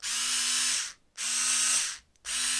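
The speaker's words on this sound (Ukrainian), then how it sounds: "і тоді з одинаковою швидкістю ця викрутка і закручує, і розкручує" A cordless electric screwdriver set to power level four whirs in three steady high-pitched bursts, each about a second long, separated by brief pauses, close and loud with no talking.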